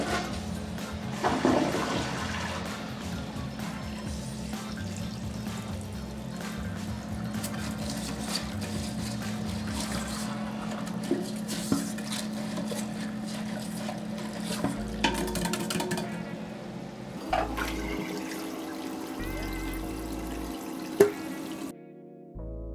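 A household toilet flushes with a loud rushing swirl, then the tank steadily refills with running water for a long stretch, with small gurgles and a few clunks near the end.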